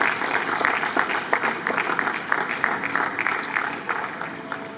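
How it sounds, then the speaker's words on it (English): At a medical students' general assembly plenary session, an audience claps to welcome a professor, with loud, continuous applause holding steady across the whole stretch and individual claps standing out in the mix. "I want us to give a round of applause as we welcome Professor"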